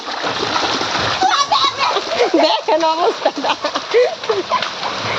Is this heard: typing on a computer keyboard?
no